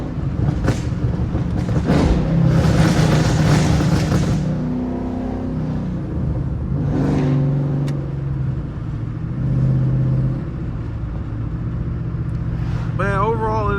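A car's engine revs and drones through most of the stretch, loud and close, with rising and falling pitch and a brief burst of higher revs near the end.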